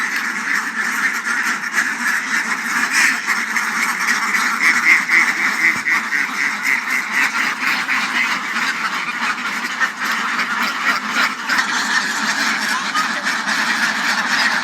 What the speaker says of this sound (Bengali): এখন আমাদের হাঁসগুলো ঘর থেকে বের হচ্ছে।